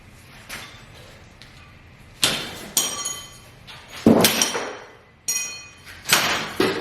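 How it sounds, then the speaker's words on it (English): A sledgehammer strikes metal while freeing a Demon axle on a Can-Am Renegade ATV, about six loud, sharp ringing blows at irregular intervals, each trailing off in metallic ring, with no talking. "If I can get it to stay hooked to the sledgehammer, this should work right here."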